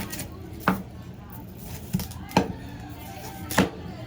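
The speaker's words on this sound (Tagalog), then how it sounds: "hinihiwa ko lang ito" A knife slices through fish on a board in four sharp, irregularly spaced strikes, close and fairly quiet, with faint background noise between.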